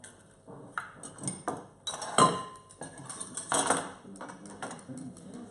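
A whole egg whisked in a bowl with a utensil, giving quick irregular taps and clinks against the bowl, near and fairly quiet, with a brief sharp ping midway.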